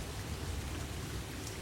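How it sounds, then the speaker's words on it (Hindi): Heavy rain pours steadily in a cartoon storm with strong winds and lightning, a dense, loud, even hiss of downpour with a low rumble beneath and no voices. "फिर से बारिश आ गई।"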